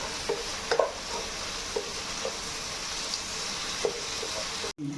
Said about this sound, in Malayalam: ഇഞ്ചി വെളുത്തുള്ളി പേസ്റ്റ് 2-3 പച്ചമുളക് ഇട്ടിട്ട് നല്ലപോലെ വഴറ്റി വെക്കണം.